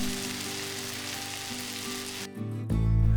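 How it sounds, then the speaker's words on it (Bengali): Tandoori chicken pieces frying in a pan give a steady, fairly loud sizzle for most of the stretch, a brief dip, then a louder, fuller burst of frying near the end. "আমি বাকি চিকেনগুলোকেও আমি একে একে ভেজে নিচ্ছি।"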